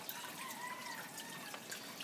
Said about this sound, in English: as you can see, the water goes into the pipe